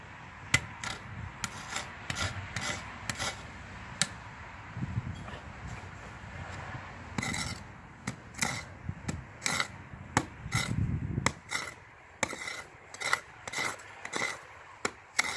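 A SOG folding entrenching tool's pick strikes and scrapes hard ground during a field test, giving a string of sharp, close knocks and gritty scraping at an irregular pace, fairly quiet overall.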